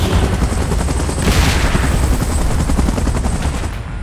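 In PUBG Mobile, a loud chopping helicopter rotor mixes with rapid bursts of gunfire, dense and close, filling the whole moment without any voices.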